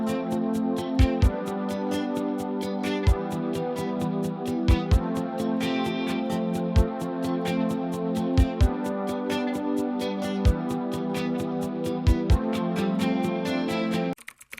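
An 80s-style synth-pop remake, built from scratch, plays as dense, steady layered music with sharp punchy drum hits throughout, loud and continuous before stopping abruptly at the end.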